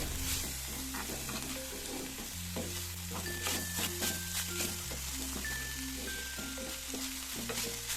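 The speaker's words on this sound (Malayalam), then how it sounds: "ഇനി ഇതെല്ലാം കൂടി ഒന്നും കൂടി മിക്സ് ചെയ്തിട്ട് മൂടി വെച്ച് കൊടുക്കുക" Bitter gourd and raw mango pieces are stirred in a frying pan for a Kerala pavakka thoran, with a steady sizzle, repeated scraping strokes and a sustained tonal backing throughout.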